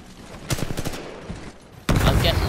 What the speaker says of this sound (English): I was just shooting them just to see what happens